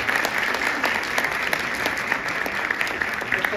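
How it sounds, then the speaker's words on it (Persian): An audience at a student Orff music concert applauds the performers, dense continuous clapping from a crowd of many hands, fairly close and steady for the whole stretch. "به اتفاق نظاره می کنیم، تشویق می کنیم هنرمندان عزیزمون رو"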